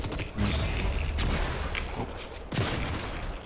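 Loud bursts of video game shotgun fire boom in quick succession, with broad blasts and mechanical clanks filling the space.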